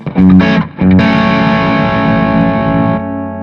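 A Sterling by Music Man Valentine electric guitar on the bridge pickup, through a Vertex T Drive overdrive, plays a couple of short chord stabs, then lets a thick, distorted chord ring out for about two seconds before it's muted.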